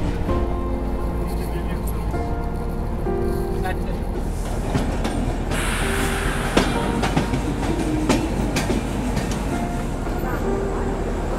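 An Indian long-distance train, the Vivek Express, rolls steadily along the rails with continuous loud rumbling and clickety-clack from inside an overpacked carriage, with voices talking over the noise.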